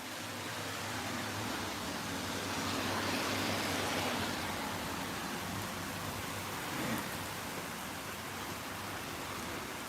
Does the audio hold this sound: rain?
yes